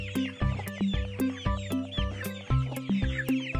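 Rapid cartoon-style hen clucking repeats in a quick, steady rhythm of short, clear calls. It is close and alone, with no voices.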